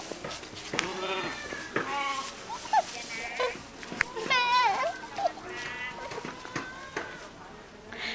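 Sheep bleat repeatedly at close range on a resort farm, their wavering calls overlapping with a child's chatter and an adult speaking.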